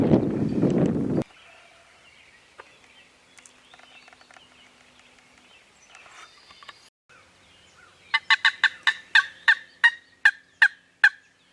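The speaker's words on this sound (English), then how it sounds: "a gobbler gobbled up on the top, right up there, quite a ways away" A wild turkey gobbler gobbles far off on a hilltop near its roost in hilly woods, with quiet rustling early on and then a run of loud, sharp, evenly spaced turkey calls close by near the end.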